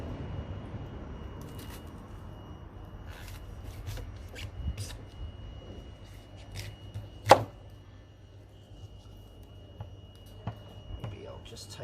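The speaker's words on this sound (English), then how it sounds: "I'm just gonna cut it into some slices" A large knife slices through food on a cutting board during van cooking of black pudding, scallops and apple, giving scattered soft cuts and taps with one sharp knock, quiet and close under a steady low hum.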